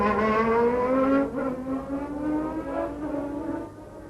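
Formula One cars start the 1994 San Marino Grand Prix at Imola, a loud rising engine howl climbing steadily in pitch over a few seconds and then fading as the cars pull away.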